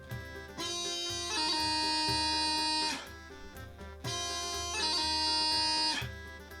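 Highland bagpipe playing E doublings at a faster tempo, a loud continuous drone under bright chanter notes, two sustained phrases separated by a brief dip, with no talking.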